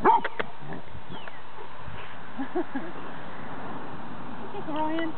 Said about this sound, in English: why won't you play with a cute puppy? He's trying.